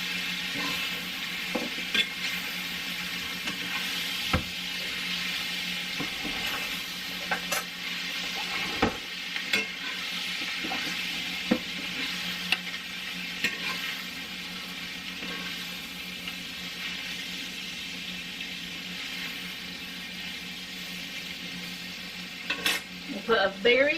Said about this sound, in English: now I'm going to go ahead and put all of this back in here. And stir it around some.